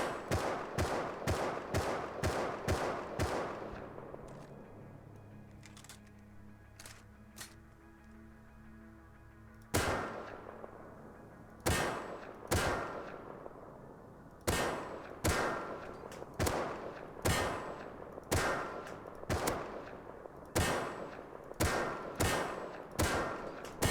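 Semi-automatic rifle in the Rust video game fired at targets, with sharp, loud single shots in quick rhythmic bursts, a pause of ringing tail after the first volley, then steady repeated shots resuming.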